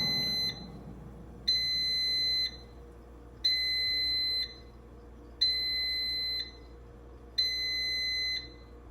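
Air fryer beeps sound in evenly spaced long tones, five of them about two seconds apart, loud and shrill over a low hum.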